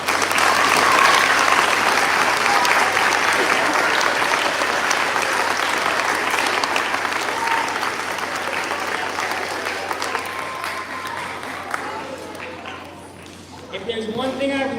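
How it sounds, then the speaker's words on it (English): Sustained applause from an audience at a Maine Teacher of the Year school announcement, loud and dense for most of the stretch before thinning and fading, then rising again briefly at the end. "Please give yourself a round of applause."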